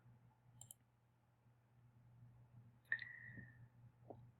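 Faint, sparse clicks of a computer mouse at a desk, a few isolated taps separated by pauses over a low steady hum, with no talking.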